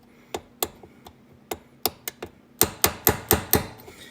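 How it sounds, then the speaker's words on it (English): A hammer strikes a pin punch while driving a pin from the gear shifter lever of a 1994 Ford F150 with an M5OD five-speed transmission: sharp metallic taps, first spaced and lighter, then a quicker run of harder blows close up. "let's see if I can get this guy punched out here. I got a punch and a hammer."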